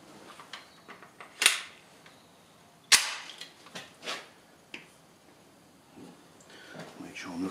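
A Glock G17 Gen 5 fitted in a Roni G2 pistol carbine conversion kit fires at an outdoor range, with two sharp, loud cracks a second and a half apart among smaller clicks and faint handling noise.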